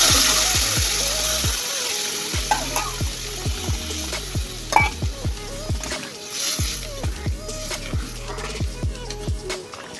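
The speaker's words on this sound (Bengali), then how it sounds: "তো আমি গরম জল করে রেখেছিলাম, সেই গরম জল দিয়ে দেবো" Hot water hitting sizzling sautéed masala in a pan for egg paneer curry, a loud steady hiss and bubbling, close up, with a repeating swooping tonal sound running over it throughout.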